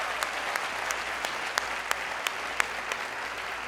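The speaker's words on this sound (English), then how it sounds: "Can we make a round of applause for all our speakers and performers so far?" Audience at a TEDx event at Grand Canyon University giving a round of applause for the speakers and performers, dense sustained clapping from a large crowd with a few sharp nearby claps standing out, no talk.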